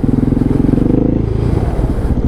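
A motorcycle engine runs close by on a world ride through South Africa, a loud, steady throbbing idle with a pulsing low rumble that eases slightly toward the end, no talking.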